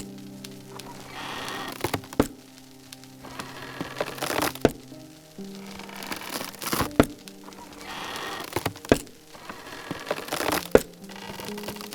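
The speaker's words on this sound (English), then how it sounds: "We're going to have to tear him all apart." Furniture being torn apart in the building game Rising World, a series of sharp cracking and crunching hits spaced every couple of seconds over a low steady background hum.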